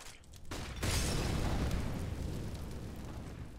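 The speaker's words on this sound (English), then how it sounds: "I'm going to flash. Flashbang." A flashbang grenade in the video game CS:GO bursts with a sudden loud boom, followed by a long, ringing, noisy decay that fades slowly over several seconds.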